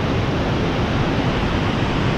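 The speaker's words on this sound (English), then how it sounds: "I think we're over a waterfall right now." A waterfall beneath the Haverhill-Bath covered bridge in New Hampshire sends up a loud, constant rushing roar of water that fills the whole moment without a break or a voice.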